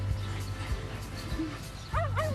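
Dog yipping and whimpering nearby, a few short barks followed by rising high whines, over a steady background hum with faint voices.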